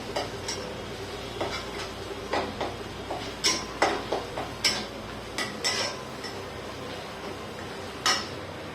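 Spatula scraping and tapping in a pan of frying oil, a series of short clinks over a steady low sizzle, close and alone.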